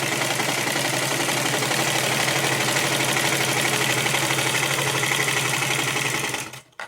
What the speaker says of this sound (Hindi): अब लास्ट में मैं सिलाई करूंगी।